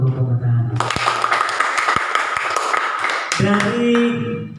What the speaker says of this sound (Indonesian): Tepuk tangan untuk kelompok Matahari.